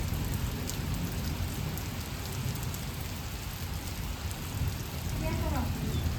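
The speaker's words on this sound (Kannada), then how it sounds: "ಫೈನಲಿ ಒಂದು ಸಣ್ಣ ಮಳೆ ಬಂತು." Light rain falls steadily in a village, a dense, even wash of patter throughout, slightly fuller toward the end, with no voices.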